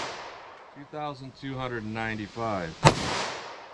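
Someone speaks briefly before a single sharp, loud pistol shot rings out from a Smith & Wesson M&P firing .357 Sig ammunition, followed by a short decaying echo.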